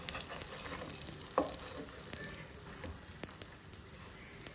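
Food fries quietly in a little oil, a soft, steady sizzle with faint crackles and a few small pops, heard close and alone.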